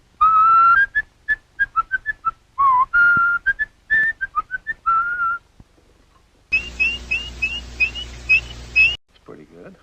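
A mechanical robin from Mary Poppins whistling, a run of bright chirping notes in quick bursts, then a longer warbling trill over a mechanical hum, close and clear.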